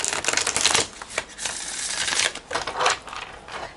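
Divine Feminine tarot cards being shuffled by hand in a steady riffling patter of slippery card stock, close and fairly loud, with short pauses between bursts.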